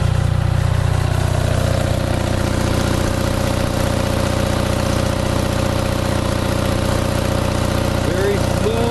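An Onan 5 kW self-contained three-phase dual-fuel generator runs under a steady electrical load, producing a loud, continuous engine drone with an even mechanical hum throughout.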